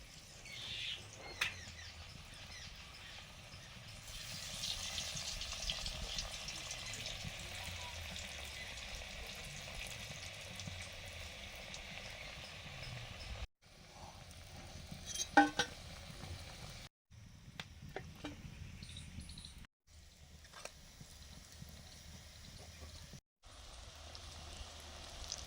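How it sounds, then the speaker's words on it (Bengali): Chickpea-lentil dhoka cakes fry in hot oil, giving a faint, steady sizzling hiss with several abrupt short breaks along the way. "তেল গরম হয়ে গেছে, ধোকাগুলো ভেজে নিচ্ছি।"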